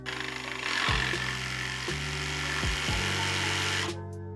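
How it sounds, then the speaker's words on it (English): Power drill bores holes into a wooden wine crate, the motor whining in short repeated bursts that spin down and restart about four times, close and fairly quiet. "I'm gonna drill some holes"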